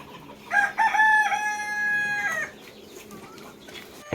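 Rooster at a poultry shed giving one clear crow, close and loud, with a rising start and a long held middle, followed by quieter farmyard noise.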